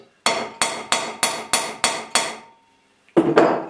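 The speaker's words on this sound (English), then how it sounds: "Keep push down with this hand and hammering." An awl is hammered into a scooter deck with seven sharp, evenly spaced metallic blows, then a pause and one more strike, loud and close with nothing else heard.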